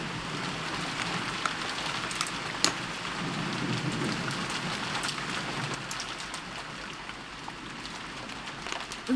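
In a visual novel game, steady rain hisses and patters over a low rumble of thunder that swells briefly near the start. Scattered droplet ticks sit over the continuous downpour, and no one speaks.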